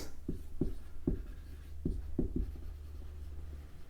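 A pen or marker taps and scratches on a board or paper in short, distinct strokes, about eight close knocks in an uneven rhythm with no talking.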